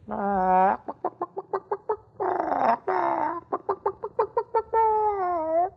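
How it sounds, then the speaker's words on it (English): A tiny chicken clucks in a sound effect from a children's vinyl record: a long squawk, then quick rhythmic clucks and drawn-out cackles, loud and close, with no speech. "Gulliver placed upon the captain's table a tiny basket containing a tiny chicken."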